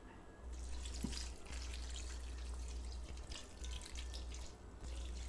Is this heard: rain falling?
no